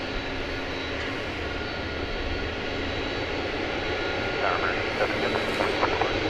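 A jet airliner roars steadily on the DFW Airport runway at night, a continuous loud engine rumble and whine filling the whole stretch, with no voices.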